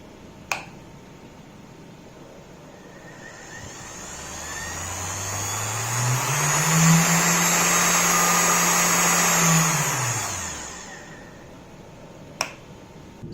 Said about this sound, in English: vacuum cleaner motor, 1000 watts. Okay, let's increase the speed.